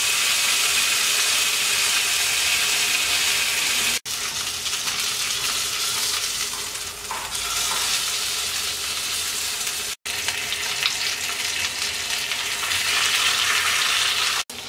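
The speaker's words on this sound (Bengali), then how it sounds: "চিকেনটা ভালো করে ভেজে নেওয়া হয়ে গেছে।" Tandoori chicken fries in a pan on a stove, giving a steady, loud broadband sizzle that runs throughout with two brief breaks, and no voices.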